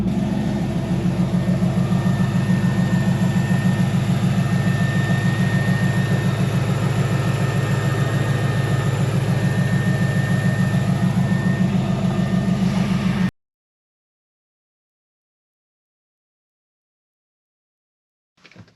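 A C5 Corvette V8 idles with a steady, loud low rumble and even pulsing rhythm for about thirteen seconds, then cuts to silence, with a brief faint noise at the very end.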